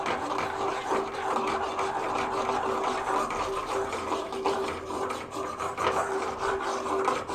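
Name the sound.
stirring milk and sugar in a pan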